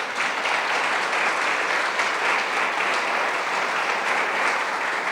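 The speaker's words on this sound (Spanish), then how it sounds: "Haz un fuerte aplauso a Dios por eso." A church congregation applauding loudly, a dense and sustained crowd clapping that fills the space evenly from start to finish with no speech over it.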